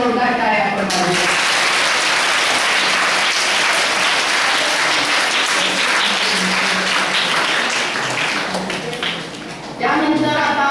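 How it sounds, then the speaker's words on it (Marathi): A school audience of parents and teachers breaks into loud, sustained applause indoors, a dense wall of clapping that holds for about nine seconds before fading, with a voice speaking at the start and end. "जोरदार टाळ्या आपण मारूया"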